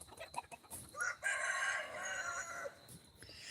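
A white rooster crows once, a long drawn-out call fairly close by, with a few short clucks and chicken sounds around it.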